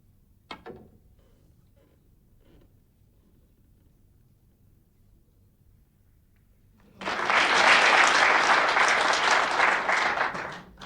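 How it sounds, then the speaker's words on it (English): Audience applause at a 1990 British Open snooker match between Alex Higgins and Doug Mountjoy. It starts after a quiet stretch with a few soft clicks and swells into a full, steady round of clapping from the crowd. "Nice round of applause there"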